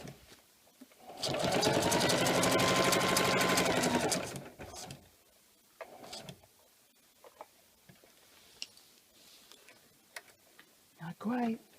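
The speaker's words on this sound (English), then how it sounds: "So shut up and keep sewing." A sewing machine stitches through an empty pet food bag in one loud, steady whirring run of about three seconds, then stops. Quieter handling noises and brief bursts of speech follow.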